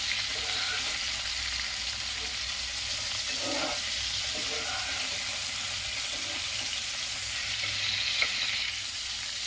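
Paneer fries in a kadhai for paneer do pyaza, a steady bright sizzle running throughout with a few soft scrapes of stirring and a small clink near the end.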